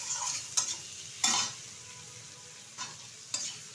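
Shrimp sizzle while frying lightly in a pan, with a steady hiss punctuated by several sharp spatula scrapes and stirs spaced a second or so apart.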